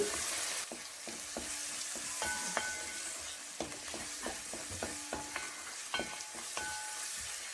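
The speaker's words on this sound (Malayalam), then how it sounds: "ഇതിലേക്ക് നമ്മൾ ഒരു 15 കൊച്ചുള്ളി നീളത്തിൽ അരിഞ്ഞത് ചേർത്ത് കൊടുക്കുന്നു. ഇതും കൂടി നന്നായി ഒന്ന് വഴന്നു വരണം." About fifteen sliced shallots sauté in a pan for beef roast with a soft, continuous sizzle. A spatula scrapes and taps repeatedly as it stirs, close but fairly quiet, with no speech.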